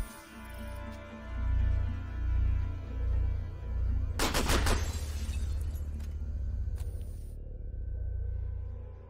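A burst of rapid AR rifle shots in a video game cracks out over a low droning background hum. The shots form a tight cluster near the middle of the sequence, and after them the game ambience continues.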